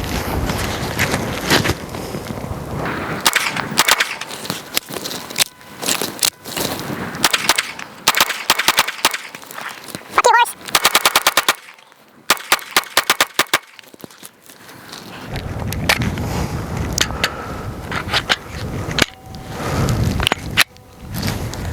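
Gunshots from a Glock 19 Gen4 pistol ring out in sharp, loud bursts, fired in quick irregular strings with short pauses between groups, recorded outdoors close to the shooter.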